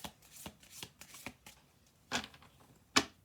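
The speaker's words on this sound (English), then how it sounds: "I'm gonna do one more shuffle through." Oracle cards being shuffled by hand in several riffling bursts, close and fairly quiet, with two sharper snaps of cards near the end and no talking.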